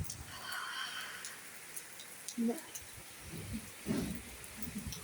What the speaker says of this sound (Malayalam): ഇപ്പം ഇന്ന് നല്ല കാറ്റുണ്ട്, ഭയങ്കര കാറ്റാണ്. മഴയുണ്ട്.